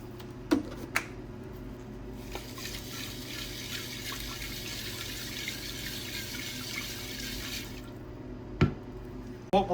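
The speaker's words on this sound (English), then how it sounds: "What we'll do is save this water that we pour off of here" Distilled rinse water is poured off a refined pure silver crystal into a container, a steady trickle lasting several seconds, framed by a few sharp clinks before and after.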